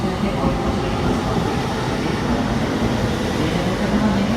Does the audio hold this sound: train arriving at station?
yes